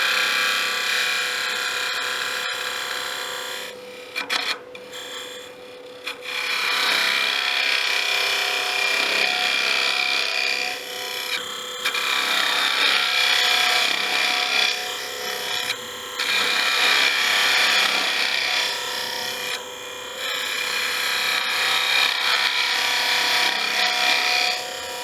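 Woodturning tool hollowing out a wooden box on a lathe, a continuous scraping, rasping cut that runs steadily for the whole stretch with brief dips as the tool shifts, close and fairly loud.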